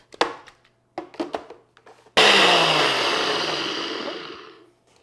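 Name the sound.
blender blending high-protein cookie mixture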